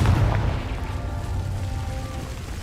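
Confringo fire spell explosion in Hogwarts Legacy: a sustained, loud, crackling fiery blast with a deep rumbling boom underneath, steady throughout without any talk.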